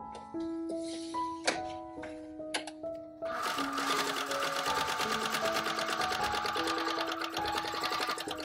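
A sewing machine stitches cosplay wing pieces along a buckram line, starting with a few short bursts and then running steadily and close for several seconds, alone with no talk.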